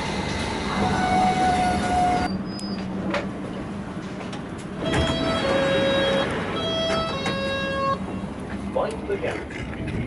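A train rumbles steadily with a low mechanical drone, brief horn-like tones and high metallic squeals rising over it, and faint voices in the background.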